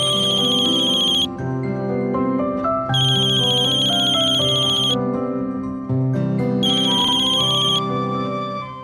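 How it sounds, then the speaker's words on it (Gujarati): A telephone ringtone plays loud and close in three repeating bursts, a bright looping electronic melody with short pauses between them and no voices over it. "ફોનની રિંગ વાગી રહી છે"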